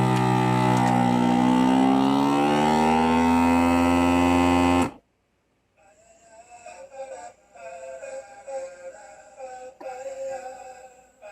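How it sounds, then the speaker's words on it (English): A homemade vacuum sealer runs with a loud, rising motor whine as it pumps air from a bag, then cuts off abruptly; after a brief silence, a quieter buzzing hum follows as the bag is sealed. "now we will vacuum and seal, and this will seal much better than it did before"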